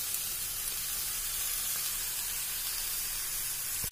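Dried soya chunks hit a hot pan of cooked spice powders for a soya chunks roast, giving a steady, close, hissing sizzle that stays even throughout, ending with a faint clatter.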